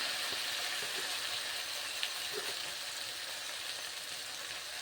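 Spice masala paste sizzles and fries softly in oil, a steady faint hiss with a few small clicks of stirring, no voices.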